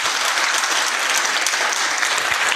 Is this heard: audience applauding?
yes